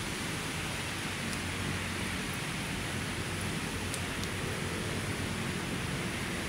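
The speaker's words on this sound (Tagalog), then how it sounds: "Ayan yung ulan, no? Pag ganun, kaya ano siya, mahina lang, no?" Light rain falls at Manila Bay as a soft, even hiss that holds steady throughout, faint and distant, with no voices.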